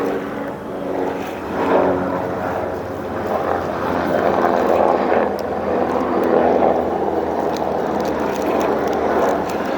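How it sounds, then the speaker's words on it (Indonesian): A distant helicopter drones overhead, a low, continuous rotor hum that swells and fades slightly over several seconds. "Tumben ada helikopter ya."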